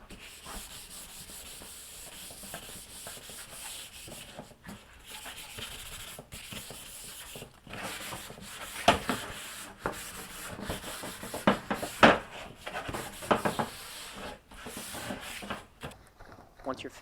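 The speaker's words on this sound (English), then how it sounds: "pick the tops that we want to see and then sand them down" Hand sanding of wooden wainscoting strips, a rhythmic scratchy rubbing of sandpaper on wood that grows rougher and louder in the second half, with a person talking throughout.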